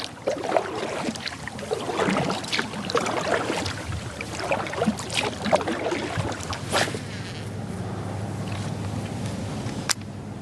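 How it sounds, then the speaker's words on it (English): Kayak paddle strokes dip and splash through water in a steady, fairly close rhythm, with a broad wash of water and wind noise around them and no talking. "I'm gonna keep paddling along to the next one."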